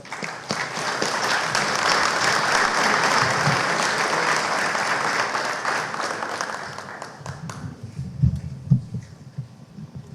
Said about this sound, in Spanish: Dejo con ustedes con un fuerte aplauso